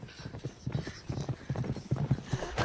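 Horse hooves clip-clop at a steady pace, fairly quiet, with faint background noise.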